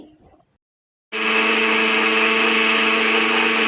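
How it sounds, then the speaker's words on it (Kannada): After a faint rustle and a second of silence, a mixer grinder grinding cumin and coriander seeds bursts on loud and close, whirring steadily at full speed. "ಜೀರಿಗೆ ಮತ್ತು ಕೊತ್ತಂಬರಿ ಕಾಳು ಮಿಕ್ಸಿ ಮಾಡಿ ಇಟ್ಕೋತೀನಿ"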